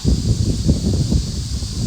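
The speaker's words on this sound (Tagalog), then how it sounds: "ang lakas ng hangin" Steady, loud wind rushing and buffeting at Chungjudam Park, with a constant low roar and a hiss over it, no pauses.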